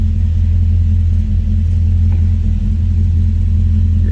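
A 1956 Mercury Montclair two-door hardtop idles steadily, its engine a loud, deep, even rumble with a constant low throb and no revving or speech.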